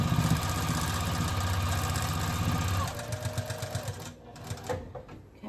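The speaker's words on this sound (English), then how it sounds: "I'm just going to sew this down" A sewing machine runs steadily, stitching down the edge of a crazy quilt block pieced from tiny scraps. The motor drones continuously for about three seconds, then slows into a few shorter, uneven bursts before stopping.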